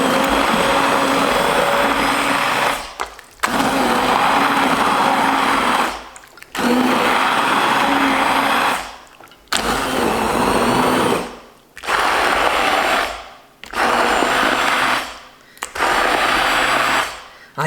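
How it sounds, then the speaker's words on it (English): An immersion blender purees celery and potato soup in loud whirring bursts, six or so runs of a few seconds each separated by brief pauses, close up with the pitch straining as it churns through the thick mixture. "My celery soup is now ready to meet up with the immersion blender."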